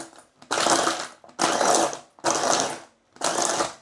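A kitchen blender pureeing siomay filling in four loud bursts of roughly a second each, separated by short pauses, harsh whirring and grinding at close range with no talking.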